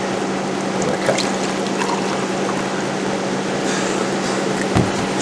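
Iced tea pours steadily into a cup, a continuous close splashing stream over a faint background hum, with no talking.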